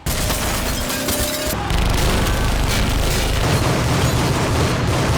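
Gunfire and heavy booms in an action film shootout with Triad gangsters, a dense, loud barrage of blasts and bursts running continuously from start to end with no voices.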